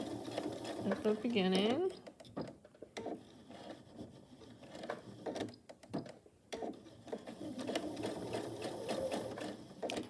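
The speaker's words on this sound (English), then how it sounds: "And just start sewing again, and remember to tack down" A sewing machine stitches down quilt binding at a corner in short, close bursts of rapid whirring, separated by pauses with rustling fabric and someone speaking over parts of it.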